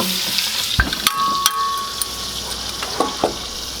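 A beef patty sizzles on a griddle as it is pressed down over onions for an Oklahoma onion burger, a close crackling hiss broken by sharp clicks and scrapes of a spatula.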